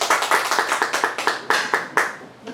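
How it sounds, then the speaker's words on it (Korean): A church congregation claps for a visiting pastor, a small group's distinct, fairly rhythmic claps sounding close and crisp, then tapering off near the end. "박수."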